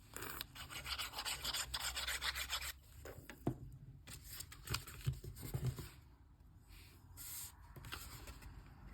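Papercraft elements being pressed and stuck down onto a card base, close-up rubbing, scraping and handling of paper in uneven bursts with brief pauses, no talking.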